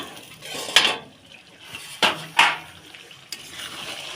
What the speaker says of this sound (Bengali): ভাতটা একটু ঢাকা দিয়ে একটু ঢাকনাটা খুলে দেখে নেবে